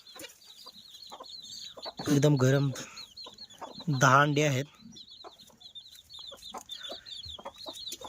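Broody hen sitting on a clutch of eggs gives two loud, drawn-out clucking calls close by, with quieter clucks and chatter in between while someone speaks briefly.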